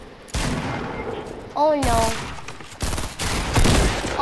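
Bursts of rapid gunfire in a Fortnite squad match crackle in clusters with pauses between, while players talk and react over the shooting.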